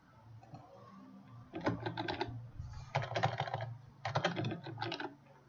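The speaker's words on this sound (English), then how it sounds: "You can hear me type on the keyboard." Typing on a computer keyboard, close and clear, in three quick bursts of rapid clicking separated by short pauses over a quiet room hum.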